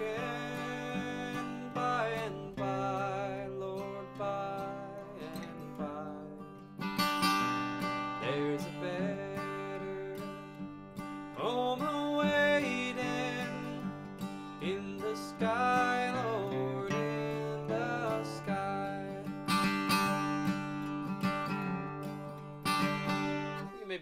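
Steady acoustic guitar rhythm in a bluegrass style, with quick bass-note runs and flourishes filling the gaps between strummed chords, no voices.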